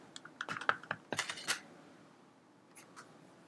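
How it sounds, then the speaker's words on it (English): A rubber stamp inked with VersaFine Onyx Black is pressed onto cardstock, giving a flurry of close, crisp taps and clacks followed by quieter pauses and a couple of faint knocks. "Stamping in VersaFine Onyx Black ink."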